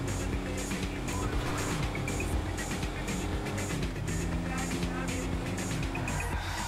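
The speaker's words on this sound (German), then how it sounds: "die Karre hat ja gar keine Leistung" An underpowered car drives in the video game GTA V, its engine giving a steady, strained drone with a few pitch shifts as it labours along, continuous and moderately loud throughout.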